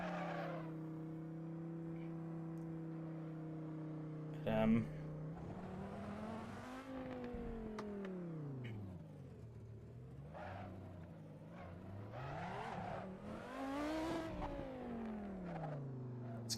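A race car driving around a track at the Race of Binners live event, its engine droning steadily with rising and falling pitch through corners, a brief bump midway, and a voice talking over it.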